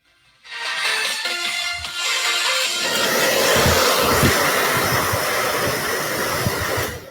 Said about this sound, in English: turn on the blow dryer, and we're going to get melting